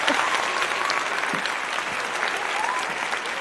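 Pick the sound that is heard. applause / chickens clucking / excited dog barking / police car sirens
applause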